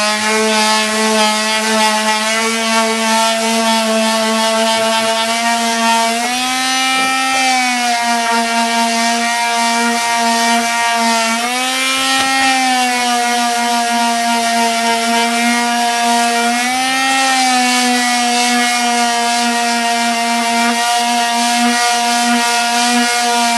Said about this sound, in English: now we're going to take our palm sander, and we've got a 80 grit on there, so we'll just give this a quick going